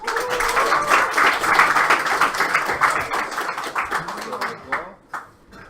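Bar audience at a game-development meetup clapping for a speaker, a burst of applause with voices talking over it that thins out and fades near the end.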